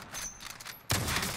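A single gunshot in a Warzone match, coming from the southwest, cracks sharply and loudly after a quiet stretch of ambient game noise and rings out briefly.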